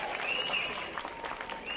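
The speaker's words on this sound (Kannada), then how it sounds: "ಈ ತಂಡಕ್ಕೆ ಒಂದು ದೊಡ್ಡ ಚಪ್ಪಾಳೆ" A live audience at a Kannada stage show in Dubai applauds a cultural performance troupe, with dense, steady clapping that holds for the whole short stretch.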